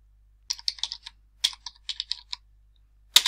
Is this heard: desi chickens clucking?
no